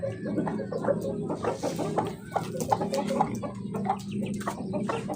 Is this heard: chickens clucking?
yes